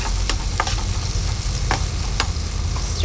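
Onions fry in a pan, a loud steady sizzle running throughout, with a utensil stirring them and a few scraping knocks against the pan.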